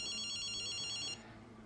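Telephone ringing in the video game Ghostwire Tokyo, a bright repeating electronic bell tone that sounds steadily for about a second over a low in-game ambient hum, then cuts off, leaving the quiet background.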